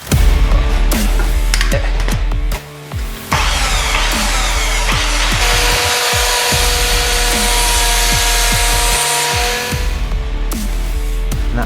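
A mitre saw cuts wood for a workbench base, its motor whining loudly and close with clattering knocks and a brief dip midway, continuing through the cut without any talk.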